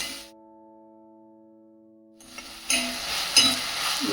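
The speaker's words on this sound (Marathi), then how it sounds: "आता कांदे टोमॅटो छान शिजत आले" Onions and tomatoes cook in a pan for dhaba-style shev bhaji, the soft sizzle rising after a quiet stretch with a faint steady hum, then a stirring scrape and a clink near the end.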